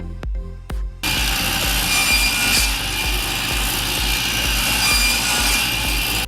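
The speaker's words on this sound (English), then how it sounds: "Now that I have the molding cut, I'm going to cut 3/4 inch pieces off of this." Handsaw cutting 3/4 inch pieces off wooden cove molding, starting with two sharp knocks and then a steady run of rhythmic, close, rasping back-and-forth strokes.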